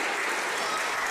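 A wrestling crowd at a PPW Crossfire event cheers and claps in a brief, loud, continuous burst of applause.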